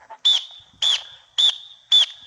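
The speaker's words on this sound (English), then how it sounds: "You can hear the whistle really good." Four sharp, shrill referee whistle blasts in an even rhythm, each short and piercing with a trilling edge, separated by brief silences.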